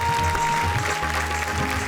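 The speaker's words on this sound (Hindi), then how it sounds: "जोरदार तालियों के साथ" A stage-show audience applauds a guest being welcomed on stage, giving steady, moderately loud clapping that runs without a break through the short stretch.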